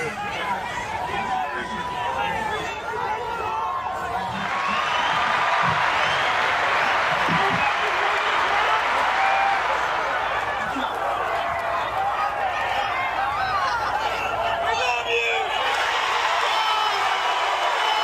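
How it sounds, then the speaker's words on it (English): A large crowd at a political event cheers, whoops and applauds in a loud sustained roar that swells after a few seconds and stays steady, with no talk over it. "Listen to that crowd roar."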